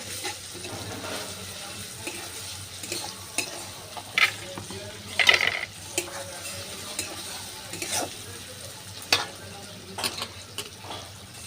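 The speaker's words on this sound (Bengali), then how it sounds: "এবার দিয়ে দিচ্ছি আমি রসুন বাটা" Garlic paste sizzles and fries with browned onions in a pan, a steady close hiss with repeated scraping stir strokes and occasional sharper clinks of the spatula against the pan.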